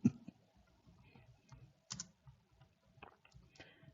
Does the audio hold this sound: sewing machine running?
no